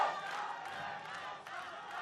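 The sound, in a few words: crowd and fans cheering at motorcycle race podium ceremony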